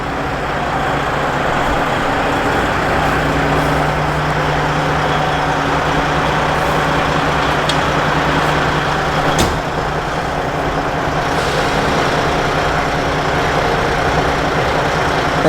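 Semi truck idling and backing under an RGN trailer to hook up to the fifth wheel plate: a steady, loud diesel engine drone throughout with a low rumble, a couple of faint clanks and a brief sharp hiss partway through.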